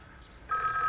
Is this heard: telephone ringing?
yes